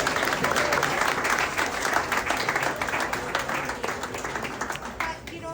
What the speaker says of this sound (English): So a round of applause for my team.